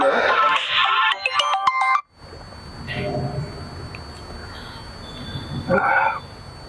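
A phone ringtone plays a bright electronic melody for about two seconds and then cuts off abruptly, followed by quiet background noise and a brief voice.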